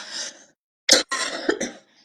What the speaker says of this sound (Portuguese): acabei aqui que a tosse veio